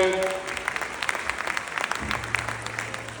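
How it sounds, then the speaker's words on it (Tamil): An audience applauds steadily with dense, even clapping for a guest at a family-themed talk show, continuing for a few seconds without speech. "பிரீத்திக்கு ஒரு பெரிய கைத்தட்டல் கொடுங்க"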